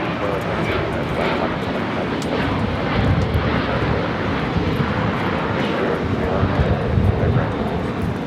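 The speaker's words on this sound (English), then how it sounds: "This is United Airlines 2449 taking off to Las Vegas on the 737-900ER." A United Airlines Boeing 737-900ER jet takes off from Los Angeles International Airport, its engines producing a loud, steady, broad roar heard from a distance, with a person talking over it.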